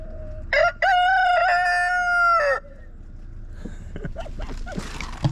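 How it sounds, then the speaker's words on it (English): A cockerel crows loudly and close by at a roadside stop in Scotland, one long drawn-out cock-a-doodle-doo with a short break near the start, then quieter clucks and scuffling noises. "And the cockerel."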